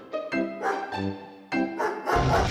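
A dog yips and barks in a few short, excited bursts at close range, with brief pauses between them.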